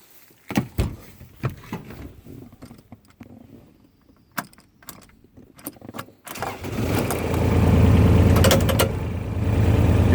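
Four-wheel-drive vehicle on a forestry track: early clunks and rattles, then the engine rises into a loud, steady rumble of driving over rough ground, close and continuous, no speech.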